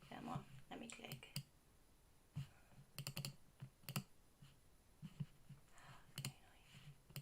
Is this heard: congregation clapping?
no